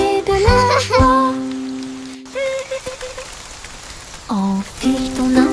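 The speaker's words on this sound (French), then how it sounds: "Les gouttes de pluie tombent avec un bruit sourd." Raindrops patter as a continuous soft hiss beneath a bright, melodic children's song with plucked and sung notes.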